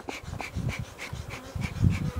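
Honeybees buzz around a beehive in a steady close drone that rises and falls in regular pulses, with some low rustling underneath.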